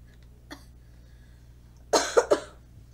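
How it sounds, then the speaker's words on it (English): Coughing: a faint short sound early, then a close burst of three harsh coughs in quick succession near the end. "Coughing so much"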